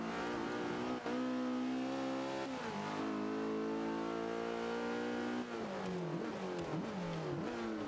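A race car in Forza Motorsport 5 at the Silverstone circuit, its engine revving hard and steadily, with rising and falling pitch through gear changes and a brief dip as the throttle lifts, loud and close with no talk.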